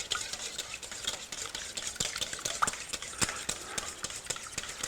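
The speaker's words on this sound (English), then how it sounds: "gonna whisk them up real good." Four eggs are whisked with a Cutco whisk, a steady run of quick, light metallic ticks against the bowl that carries on alone at low, close volume throughout.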